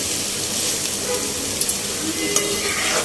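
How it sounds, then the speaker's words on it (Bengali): Potatoes frying in a pan, a loud, even, continuous sizzle with faint clicks of stirring throughout. "আলু ভাজাটাও করছি সাবাহাতের ডাটার জন্য"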